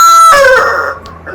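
A homestead rooster crows loudly and close, one full drawn-out cock-a-doodle-doo that trails off, with faint background noise after.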